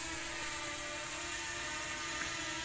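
A DJI Mini 2 drone flies, its rotors giving a steady high-pitched whirring buzz that holds even and fairly loud for the whole stretch.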